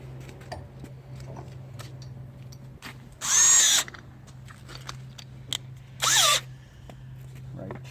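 A power drill whirs in two short bursts, the second briefer, against a quiet room with a low hum and faint clicks.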